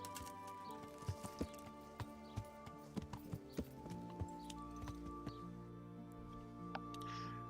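In the video game Kingdom Come: Deliverance, a horse trots with a steady clip-clop of hooves at a regular rhythm, close and fairly loud over a bed of background music and ambient tones.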